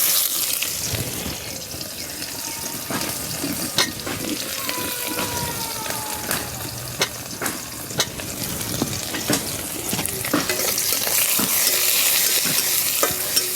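Chopped onion and two split bay leaves frying in hot oil, a dense hissing sizzle with frequent stirring scrapes and taps close by, loud and continuous throughout.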